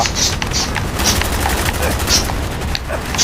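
A scoped RPK machine gun firing in Call of Duty Black Ops: dense, loud, continuous bursts of rapid shots over heavy rumbling battle noise.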